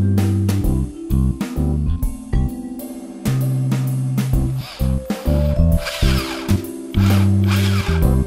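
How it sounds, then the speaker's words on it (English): A power drill bores holes through wood while building a cat hammock, giving loud, repeated whirring bursts that start and stop in quick succession, with no talking over them. "Then we drilled holes and fixed them together with chipboard screws."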